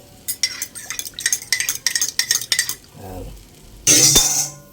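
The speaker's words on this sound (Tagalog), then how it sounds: "Haluin natin mga kablog." Vegetables with fish bagoong are stirred in a cooking pot, giving a quick series of scraping clinks from the utensil against the pot, then a short softer bubbling and a louder burst of sizzling.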